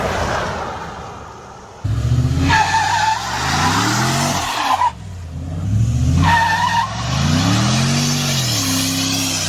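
A Ford F-150 pickup spinning a single tire, the engine revving up in loud bursts while the tire screeches and squeals close by, two surges separated by a brief lull.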